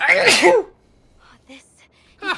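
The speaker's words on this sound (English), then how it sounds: "Do my sneeze startle you?" A sharp, loud sneeze bursts out at the start within the game Reverse 1999, followed by quieter speech from a voice.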